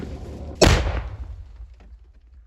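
A single heavy mortar blast from a Ukrainian mortar crew firing at the enemy booms suddenly, close and loud, then its rumble fades away over the next couple of seconds.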